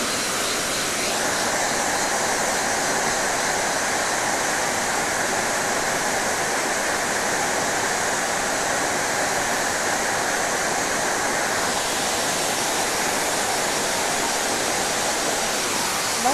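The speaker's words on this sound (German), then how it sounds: "Wasserfall." A mountain waterfall in Turkey roars as a steady, broad wash of falling water, close and continuous for the whole stretch with no voices.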